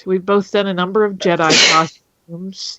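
One loud, sudden sneeze bursts out right after a person speaks, followed by a short pause and a brief bit of more talk.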